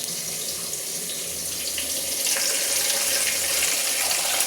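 Soya chunks are rinsed under a running tap with plain, normal-temperature water, with a steady close hiss of flowing water into a sink that swells slightly louder partway through and continues without talk.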